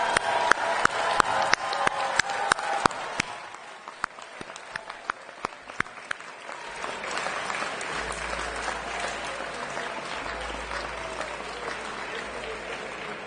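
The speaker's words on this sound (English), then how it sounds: "join me in applauding the new members of the Central European University class of 2023." Central European University graduation ceremony audience applauding the class of 2023, loud crowd clapping that thins briefly, then swells again with added murmur and low rumble as people continue clapping.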